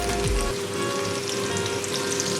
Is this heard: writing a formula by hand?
no